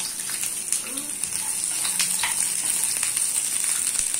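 Small onions, shallots, frying in hot oil for mutton kuzhambu, a steady bright sizzle and hiss that holds evenly throughout, close and fairly loud.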